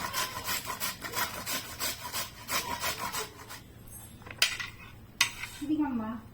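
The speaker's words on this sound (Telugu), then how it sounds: "ఇది ఇలాగా కోరుతున్నాను కొబ్బరిలాగా" Coconut-style grating of a food item by hand on a grater, a steady run of rhythmic rasping strokes followed by a few sharper clinks and knocks, close and moderately loud with no talking.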